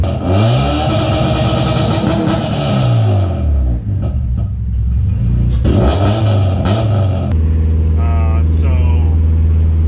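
A K24-swapped Honda Civic EG with a 1320 hood exit equal-length exhaust revs hard, rising and falling through several loud, raspy pulls close by, then settling into a steady idle.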